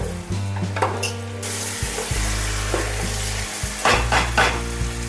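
Chicken pieces frying and being stirred in a pan for seeraga samba chicken biryani, with steady sizzling and scraping stirs that flare up and settle, close by with no talking.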